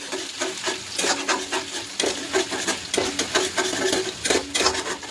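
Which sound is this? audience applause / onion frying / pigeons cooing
onion frying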